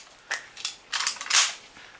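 An airsoft rifle with a specialized trigger, powered by an air compressor, fires several sharp close pops in quick irregular succession.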